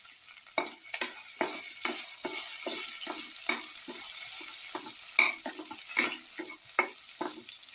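Garlic okra tomato rice casserole being stirred thoroughly in a pan, a steady sizzle of frying under repeated scraping strokes of a utensil, each stir landing as a distinct rhythmic scrape, close and moderately loud, with no voices.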